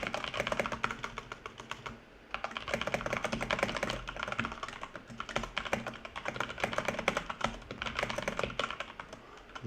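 Computer keyboard keys clatter in quick, continuous bursts of typing as code is written, with a brief pause near two seconds before the steady tapping resumes.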